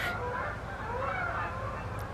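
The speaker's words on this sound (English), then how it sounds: "We have geese flying overhead. The Canadian geese are on the move" Canada geese flying overhead in Canada give faint, distant honking calls that rise and fall over a steady wash of outdoor background noise.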